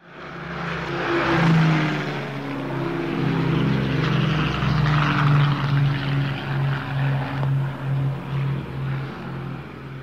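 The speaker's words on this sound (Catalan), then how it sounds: "solien venir uns Junkers alemans, els avions, que només amb la fressa dels motors ja sabíem que eren aquests" Droning propeller engines of German Junkers aircraft roar loud and close, with a throbbing, pulsing hum that swells and wavers as the planes pass over.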